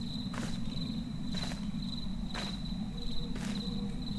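Crickets chirp steadily through a night scene in the horror game Hunted: One Step Too Far, a constant high trill with footsteps or rustling swelling roughly once per second underneath.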